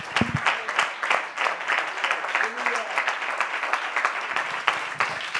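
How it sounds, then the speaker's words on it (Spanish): Church congregation applauding during a worship service, dense steady clapping from many hands sustained throughout, with a few louder claps near the start and end and faint voices underneath. "Fuerte el aplauso."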